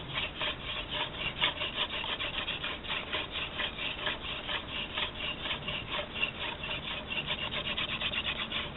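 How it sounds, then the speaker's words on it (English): Rhythmic wooden rubbing and squeaking, a fast back-and-forth grinding of wood on wood from a hand drill spun to make fire, continuing steadily and close by. "Just to heat up your hand drill set."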